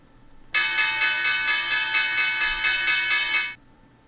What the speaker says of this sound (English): Let's get that bell going.